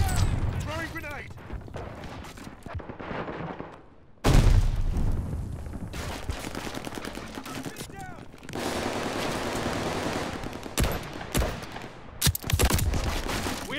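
Gunfire and explosive bursts in a Call of Duty Vanguard team deathmatch match, with a grenade thrown amid the shooting; dense crackling volleys come in waves, a loud boom hits near the middle, and game voice lines sound over the fighting.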